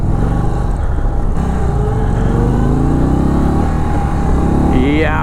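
A 2023 Indian Sport Chief motorcycle accelerates hard, its engine note rising and harmonics climbing steadily through several seconds of loud, close revving, with a rider's voice mixed in.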